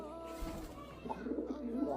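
A pet pigeon coos softly up close in a quiet room, a few low throaty coos rising near the end.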